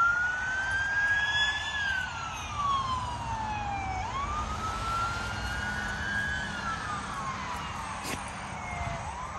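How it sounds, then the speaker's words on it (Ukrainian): An ambulance siren wails and sweeps up and down as it passes at some distance on an early morning, fairly faint over a low background hum of traffic. "Поліція? Ні, швидка їде."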